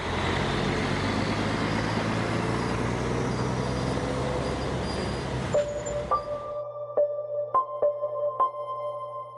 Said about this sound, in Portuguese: vemos a movimentação sem parar de caminhões das mineradoras num vai e vem constante